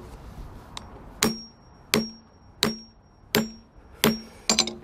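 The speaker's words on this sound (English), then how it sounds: "I'm gonna go ahead and crimp it back here as well." A propane hose fitting is crimped by hand with sharp metallic strikes, six evenly spaced loud blows about one second apart, the last followed by a quick double hit, in a quiet workspace.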